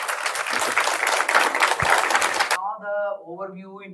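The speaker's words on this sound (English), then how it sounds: "Can I please have a huge round of applause for Professor Jayaraman" An audience applauds a professor after a thesis-writing lecture, dense steady clapping filling the room for about two and a half seconds before cutting off, then a voice speaks alone.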